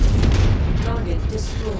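A VTOL aircraft crashes and explodes in a mech combat video game, heard as a heavy booming rumble that fades over under two seconds.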